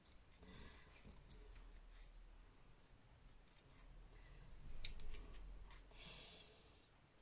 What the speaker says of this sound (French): je vais découper l'étiquette juste au bord, sans rien laisser d'autre comme couleur